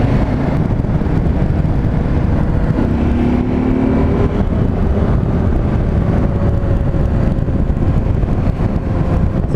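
A KTM 790 Adventure R motorcycle cruises in sixth gear at 90 km/h and about 4000 rpm along a forest road, a steady loud engine drone wrapped in heavy wind rush, with no voices.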